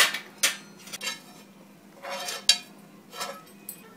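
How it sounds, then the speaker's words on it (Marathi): Intermittent clinks and scrapes of a spoon against a pot as ghee-fried carrots are added to milk kheer and stirred, several short metallic taps and scraping strokes spaced out over a few seconds, close and moderately loud. "तुपावर परतवून घेतलेलं गाजर घातल्यावर अगदी थोडंसं ढवळायचं"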